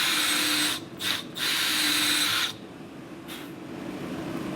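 A compressed-air nozzle blasts through a polyurethane suspension bushing on a C5 Corvette Z06 front end, giving loud close hissing bursts, two quick short ones then a longer sustained blast, followed by quieter background hiss.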